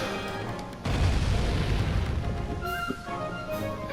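Ship cannons fire in the video game Sly 3, one heavy booming blast followed by a rumbling roll. Game music and a few higher tones ring out as the rumble fades.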